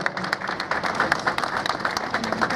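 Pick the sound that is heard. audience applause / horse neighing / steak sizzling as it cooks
audience applause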